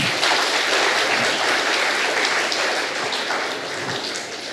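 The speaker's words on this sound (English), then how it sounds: "So I require a round of applause." An audience at a university endowment launch event applauds loudly and steadily, a dense wash of clapping that fades slightly toward the end.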